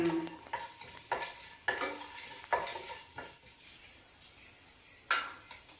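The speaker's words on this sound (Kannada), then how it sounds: "ಜೀರಿಗೆ ಎರಡನ ಇದನ್ನು ಒಂದ್ಸರಿ ಸುಮ್ಮನೆ ಹಂಗೆ ಫ್ರೈ ಮಾಡ್ಕೊಳ್ಳೋಣ" Cumin seeds fry in a pan for a Kannada village-style kengara dish while a spoon scrapes and stirs, giving several sharp metallic clinks over a soft steady sizzle, close and alone.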